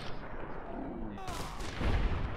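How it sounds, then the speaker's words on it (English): Gunfire in the Fallout: New Vegas video game, a sharp burst near the middle followed by a heavy booming impact, with quiet background noise before it. "Good shot, Cass."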